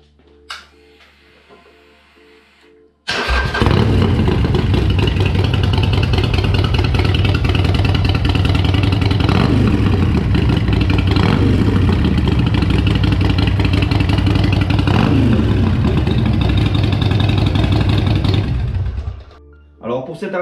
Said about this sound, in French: je vais vous faire découvrir le son de cette Harley Davidson